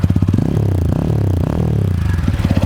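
Close, loud 2020 TVS Apache 200 4V BS6 motorcycle exhaust burbles in a rapid, pulsing rhythm, briefly revving up and settling back to an uneven idle.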